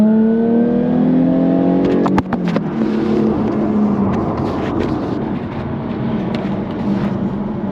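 Jaguar F-Type P300 supercharged V6 accelerating at full throttle from inside the car, a loud climbing engine note with a crisp gear shift near two seconds, then a steady hard-pulling roar.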